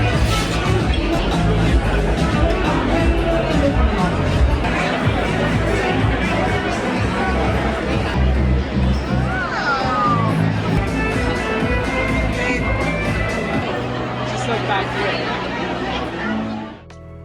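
A dense crowd murmurs and chatters on the sea terrace of a new mega cruise ship off Florida, a continuous close babble of many voices with occasional louder calls and laughter.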